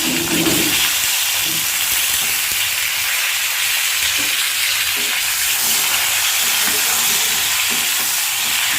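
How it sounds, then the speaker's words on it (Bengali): Potato pieces frying in hot oil with cumin seeds, a loud, steady, dense sizzle that fills the whole stretch without a break, with faint stirring knocks in the pan. "এই যে কেটে রাখা আলুগুলো আমি দিয়ে নিচ্ছি এই আলুগুলো ভেজে নেব সুন্দর করে"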